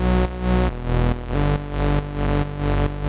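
A thick, buzzy speed garage synth bass built from reversed, unison-detuned saw waves plays a pulsing pattern of held notes, its detuned layers giving a wide, slightly wobbling tone.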